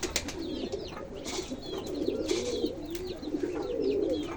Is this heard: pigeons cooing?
yes